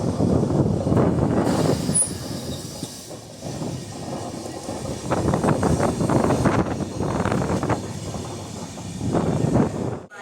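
A Jan Shatabdi Express on the Konkan route runs along the rails with a steady rumble and rhythmic clickety-clack of wheels over joints, heard from inside the moving train, with a brief high squeal early on.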